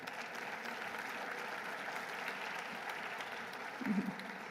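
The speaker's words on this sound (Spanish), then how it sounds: "a quien en la distancia también enviamos un caluroso aplauso" An audience at a medical education panel gives a steady round of applause, a continuous, moderately loud wash of many clapping hands with a brief thicker burst near the end.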